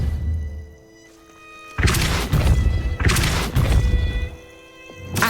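A Depulso spell goes off in the video game Hogwarts Legacy as two heavy thumping bursts of force over a tonal magical backdrop, loud and close.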